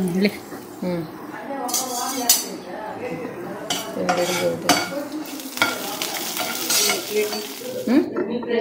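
Coriander seeds and fenugreek roast in a pan, with a spatula scraping and clattering against the metal in irregular bursts over a low sizzle while voices talk at times.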